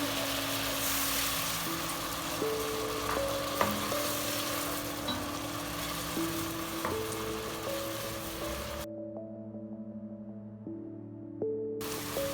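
Chicken filling for coxinhas browns in a pan, giving a steady close sizzle and fry hiss throughout, with low sustained musical tones beneath it and a brief drop in the hiss near the end.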